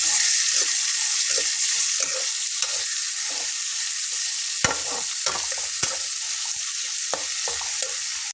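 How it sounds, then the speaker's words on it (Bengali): Onion and chopped tomato fry in a pan for dal tadka, a loud continuous sizzle with rhythmic scrapes and taps of a spoon stirring through it. "পেঁয়াজটাকে একটু এরকম হালকা করে ভেজে নিয়ে আমি এর ভেতরে বেশ কিছুটা টমেটো কুচি করে রাখা দিয়ে নেব"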